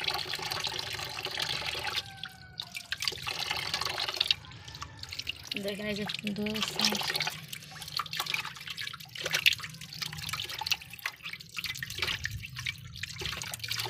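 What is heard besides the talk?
fish being washed under running water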